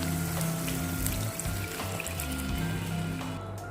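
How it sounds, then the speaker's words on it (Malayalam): Tamarind water is poured into a curry pan, giving a continuous soft trickle and splash of liquid close by, steady and fairly quiet with no talk. "ഇനി ഇതിലേക്ക് പുളി പിരിഞ്ഞത് ഒഴിച്ചു കൊടുക്കാം."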